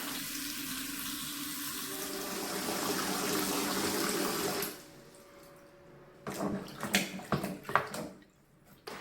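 Water running from a tap into a bowl of fresh edamame pods soaking with a little salt, a steady gush that stops midway, followed by close sloshing and splashing as the pods are stirred and rinsed.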